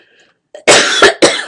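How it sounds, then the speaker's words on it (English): Three harsh, close coughs from one person indoors, coming in a quick run after a short faint noise, loud and clear with no talk around them. "I don't know why I'm coughing today."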